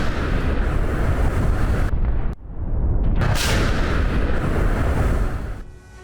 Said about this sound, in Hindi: कुसर्क में रूसी सेना का आर्टिलरी अटैक, यूक्रेनी सेना की पोजीशन पर दागे गए गोले